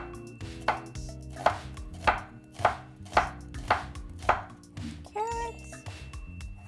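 A kitchen knife slices an onion thinly on a cutting board, about eight evenly spaced firm chops in a steady rhythm, close and clear, followed by a short burst of scraping and rustling.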